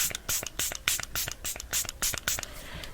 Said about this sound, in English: I'm going to apply some Airbrush Flawless Setting Spray on it